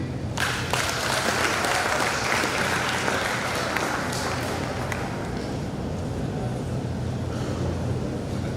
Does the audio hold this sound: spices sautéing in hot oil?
no